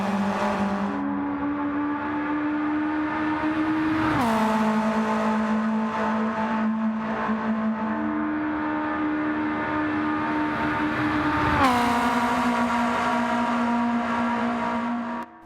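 The RCR Garage Honda Civic race car in Gran Turismo 7 drones loudly and continuously near the listener, its engine pitch climbing steadily through each gear and dropping sharply at two shifts.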